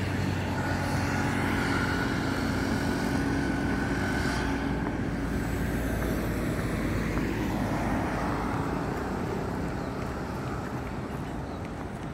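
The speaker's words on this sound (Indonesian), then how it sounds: "Ini cukup ramai, mobil-mobil, motor juga." Busy road traffic near a toll gate at Gedebage in Bandung, with cars and motorbikes passing. It comes through as a dense, continuous roar heard from a walking path beside the road, steady throughout with no voices.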